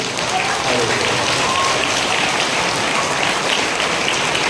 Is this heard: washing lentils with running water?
no